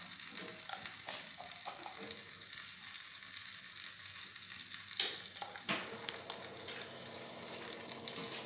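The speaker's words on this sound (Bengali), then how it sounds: "দিয়ে ঘিটা আর এলাচ গুঁড়োটা এই সুজির সাথে খুব ভালোভাবে মিশিয়ে নাড়তে" Semolina, ghee and cardamom powder are stirred in a pan with a soft, steady sizzle and rhythmic scraping, punctuated by two sharp knocks of the utensil against the pan.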